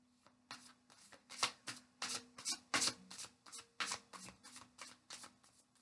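Tarot cards riffled and shuffled in a quiet room, a rapid run of crisp papery flutters and soft taps in irregular bursts, close and fairly faint, with no talking.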